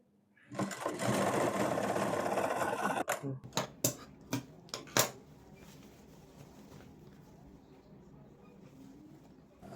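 A sewing machine stitches cloth folded one inch for a semi-Patiala pant, running in a loud, fast burst for a few seconds, then stopping with several short separate clacks and faint handling noise afterward.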